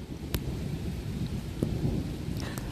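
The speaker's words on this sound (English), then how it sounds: "And the rain is keep coming" Steady rain pours down while rumbles of thunder roll underneath, with a few sharp cracks breaking through.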